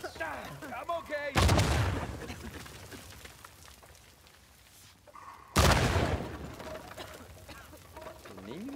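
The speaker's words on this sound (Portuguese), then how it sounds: "Nem me mexi, explodiu o bagulho." Two heavy blasts go off in Uncharted 4, each a sudden loud boom that decays into rumbling debris several seconds apart, with game sounds and a voice heard between them.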